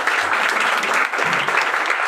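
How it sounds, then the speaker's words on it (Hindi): Dense, steady applause from a large audience at a business gathering, loud and continuous throughout with no pauses. "जोरदार तालियां"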